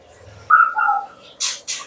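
A breeding bird at its nest gives a short call, with a tonal coo followed by two breathy bursts, close and fairly quiet.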